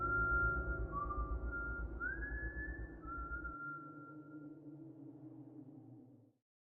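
Someone whistles a few faint, sliding high notes over a low droning hum, and the sound fades out after several seconds.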